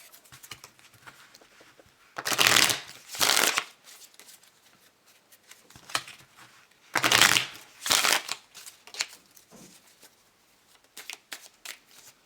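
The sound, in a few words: shuffling tarot clarifying cards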